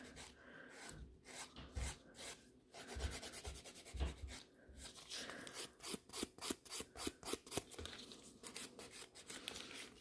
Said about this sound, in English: for a natural nails, I'm using 180 grit to give us scratches